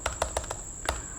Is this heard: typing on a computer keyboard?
yes